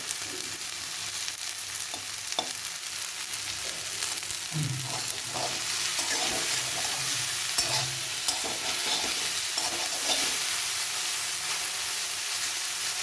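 Okra pieces fry in hot oil for okra bhujia, giving a continuous close sizzle with occasional scraping clinks as they are stirred, and no talk.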